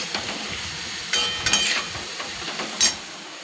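Soft sizzling of potatoes frying in a pan, with a few sharper crackles and stirring scrapes.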